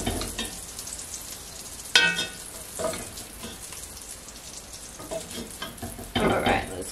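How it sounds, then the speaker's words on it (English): Rabbit sears fast in a pot with bacon grease, a quiet steady sizzle broken by a few sharper spatters and clatters as pieces are moved, with no talk over it. "Get our rabbit in here and sear it off real fast."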